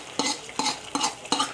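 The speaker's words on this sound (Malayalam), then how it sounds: "നമുക്ക് ഈ കടുവറുത്തത് സാമ്പാറിലോട്ട് ഒഴിച്ചു കൊടുക്കാം" Spoon stirring after a tempering is poured into banana stem sambar, four evenly spaced scraping strokes over a faint steady sizzle, close by.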